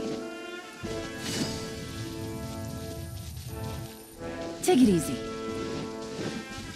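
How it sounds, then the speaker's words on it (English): Rain falling in Genshin Impact, a soft, steady patter spread under a game soundtrack with a low rumble, while a voice speaks over it. "It's raining again?"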